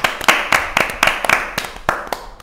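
An audience at a fashion panel discussion for Rodarte Spring/Summer 2013 claps in a short burst, with distinct, close claps in an uneven rhythm.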